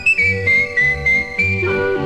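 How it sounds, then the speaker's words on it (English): Someone whistles a bright melodic tune while cleaning up a room, clear and close, with several sustained phrases over a low musical backing. "Just whistle while you work."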